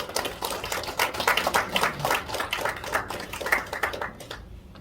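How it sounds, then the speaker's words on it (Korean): An audience applauds at a Korean March 1st anniversary ceremony and peace medal award in a hotel hall. A dense burst of clapping rises, holds for several seconds, then thins out and fades near the end. "여러분 뜨거운 박수로 축하해 주시기 바랍니다"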